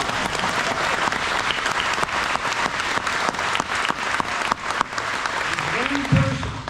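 Sustained applause from a rally audience of RV owners thanking volunteers, dense steady clapping filling the whole stretch at close range, with a voice briefly speaking near the end.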